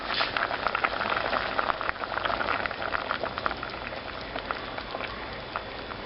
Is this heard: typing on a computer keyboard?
no